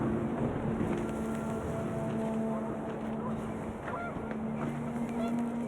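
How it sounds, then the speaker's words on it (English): Panicked geese honk in the video game What Remains of Edith Finch, a few brief cries over a steady windy outdoor bed with low tonal hum throughout. "The wind picked up, and panicked geese appeared and quickly went."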